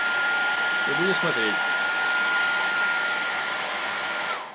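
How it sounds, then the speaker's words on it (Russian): A freshly repaired household hair dryer blows steadily at its highest power setting, a continuous whooshing roar that holds for several seconds before cutting out, with someone speaking briefly over it near the start. "Я включил на самую большую мощность"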